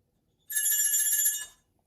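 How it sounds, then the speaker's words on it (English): A telephone rings once, a bright shrill electronic trill lasting about a second, loud and close with no talk over it, followed by the start of a second ring. "now I hear the phone"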